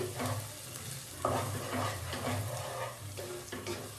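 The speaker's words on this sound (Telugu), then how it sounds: "ఎగ్ అంతా మంచిగా ఫ్రై అయిపోయింది" Egg stir-fries in a pan with a soft steady sizzle, broken by repeated scraping and stirring strokes of a utensil against the pan, quiet and close.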